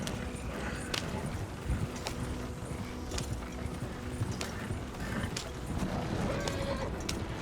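Horse hooves clip-clop in a steady trotting rhythm in Red Dead Redemption 2, moderately close, with wheel and harness rattles and low ambient noise underneath.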